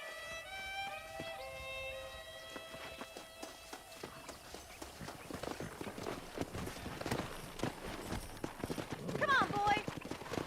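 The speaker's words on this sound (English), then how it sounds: "Let's see if we can't wrangle some horses." Horse hooves clip-clopping in the Western video game Red Dead Redemption, an irregular run of hoof beats under game music and voices, growing louder and busier toward the end.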